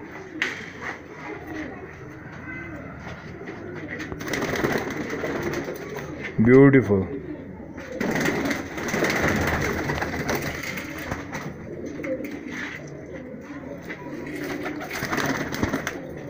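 High-flyer pigeons coo in soft, low bursts close by, partly under someone talking.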